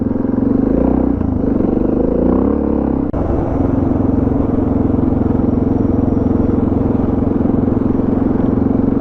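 A quad bike passes on a dirt road in outback Tasmania, a loud steady engine rumble and clatter heard close from a DR 650 motorcycle, with the quad's engine note blending into the ride noise throughout.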